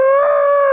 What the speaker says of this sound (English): I hear an elephant trumpeting at me.